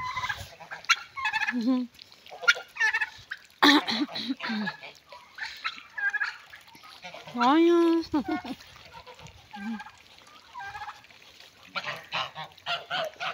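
Geese honk and turkeys gobble in repeated bursts, fairly close, amid a mixed flock of waterfowl and farm birds, while someone talks and exclaims over them.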